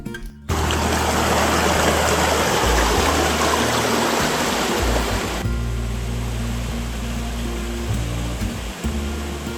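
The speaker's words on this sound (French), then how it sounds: "Un chouette coin pique-nique avec un bruit de cascade en arrière-plan." A waterfall where the Olef river feeds a lake, heard as a loud, steady roaring rush of falling water that fills the whole clip, close by, with no talking.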